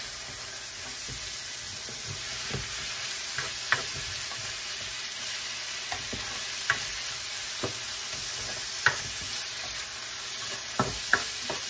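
Pork sizzles steadily as it is sautéed in a pan for lumpia, a continuous frying hiss broken by sharp scraping stirs every second or two, close and fairly loud with no talking.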